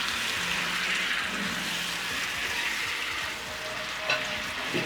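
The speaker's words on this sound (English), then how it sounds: "Just a little bit of wine. Then we'll add some beef stock." Wine and beef stock go into a hot pan sauce for beef tenderloin fillet steak, giving a steady, close sizzle that runs the whole time, with a small clink near the end.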